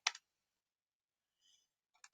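Calculator keys being pressed: a few faint, sharp clicks, one at the start, a softer one midway and a quick double tap at the end, with silence between.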